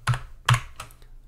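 Short burst of typing on a computer keyboard while entering a regular expression pattern for Internet Information Services redirection: two firm, close keystroke clusters and then a couple of lighter taps, with no voices.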